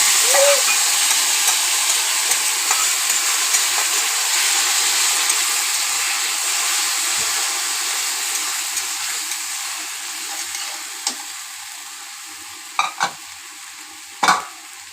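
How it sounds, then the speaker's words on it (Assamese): Steady sizzling of sour fruit frying in a pan, a constant bright hiss with a few sharper pops and crackles near the end. "এইটো মই অলপমান ভাজি ল'ম টেঙাটো।"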